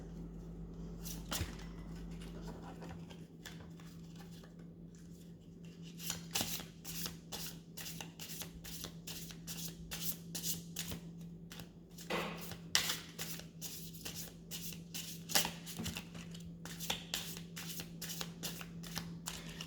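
A deck of slippery playing cards is shuffled over and over, giving rapid papery riffles and snaps in repeated bursts, close and fairly loud, with no talking.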